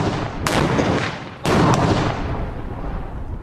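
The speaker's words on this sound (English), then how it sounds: "They create an explosion, but no ignition." Two heavy blasts from a demolition test, the second louder and closer, each a sharp broadband crack followed by a long rumbling decay, with no voices.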